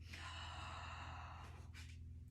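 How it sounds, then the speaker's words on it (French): A deep breath drawn in through a wide open mouth during a breathing exercise, a long airy rush followed by a softer second intake, close and quiet over a low background hum. "vous allez inspirer avec la bouche grande ouverte"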